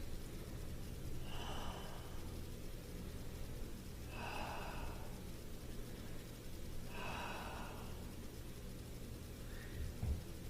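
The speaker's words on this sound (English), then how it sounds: "3 deep breaths." Three slow, deep breaths taken during a kneeling toe stretch in a yoga session, each a soft, airy exhale spaced a few seconds apart, close up over a steady low background hum, with no talking.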